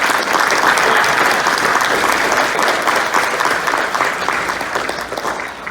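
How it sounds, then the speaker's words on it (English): Banquet audience at a black-tie fraternity ball applauds sponsor Mike McMillan, a dense, steady wash of clapping from a large crowd that holds throughout and tapers slightly at the end. "Let's give Mike McMillan a round of applause."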